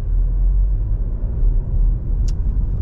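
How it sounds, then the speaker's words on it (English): UK car driven slowly through a French town near a pedestrian crossing, heard from inside as a steady low engine and road rumble, with one brief high click near the end. "I'm gonna slow the car right down as I come past them in case they decide to step on the road"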